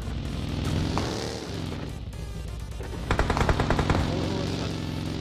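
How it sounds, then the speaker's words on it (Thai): Gunfire in the mobile video game PUBG Mobile, with bursts of rapid automatic shots over a dense game soundscape, growing louder in a rattling flurry near the end. "มันยิงจากไหนอะ"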